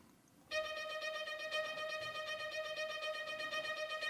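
Kirk Hunter Kinetic Strings violins play a rapid, repeating ostinato at the top of their range, a bright, steady pulsing line that starts abruptly after a brief quiet moment, faint and without voices.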